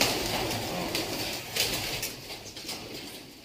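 Pigeons cooing softly inside a loft, a low murmuring coo repeated under steady broadband background noise, fairly close and moderately quiet, with no talk.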